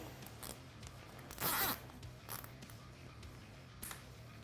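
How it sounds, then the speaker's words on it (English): A zip tie ratchets tight on a 2010+ Yamaha YZ250F/450F motorcycle during a top-end rebuild, one short loud zipping burst in the middle with a few lighter clicks around it. "Gonna put the zip tie back on."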